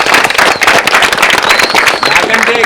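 An audience claps and cheers loudly and continuously at a film premiere event in Vizag, with dense crowd noise throughout and no clear talk over it.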